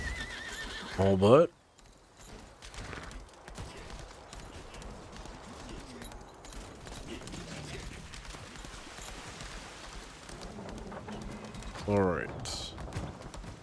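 A horse in the video game Lost Ark whinnies loudly near the start and again briefly near the end, with clip-clop hoofbeats running underneath while someone talks casually throughout.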